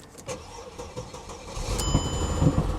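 An old 1990s Chevy GMT400 truck with a misfire cranks and catches at an auction yard, its engine building to a loud, rough, uneven idle that grows stronger over a few seconds, with a brief high electronic chime near the start of the running.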